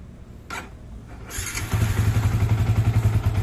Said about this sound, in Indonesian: jadi mesinnya Vixion itu agak kasar, tapi kasarnya itu kasar sehat sama berpenyakit pastinya beda ya. Kalau sehat tuh ya emang begini